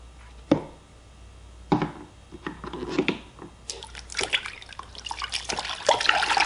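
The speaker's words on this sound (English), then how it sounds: "Now, for the real test, though, I'm going to add some dishwashing liquid." Dishwashing liquid pours and splashes into water, a few sharp plops first, then a steady bubbling trickle that grows busier toward the end.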